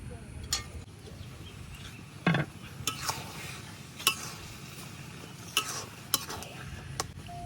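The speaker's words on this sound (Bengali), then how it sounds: "এখন এইভাবে ঢাকিয়া একটু পর ডাকনা উড়াইয়া একটু লাড়ে চেরা রান্না করে নিলাম" A spoon stirs salted hilsa with taro stems cooking in a village pot, soft scraping and clinks over a faint simmering sizzle, with scattered sharp taps.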